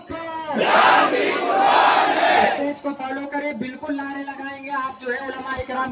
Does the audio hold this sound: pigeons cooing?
no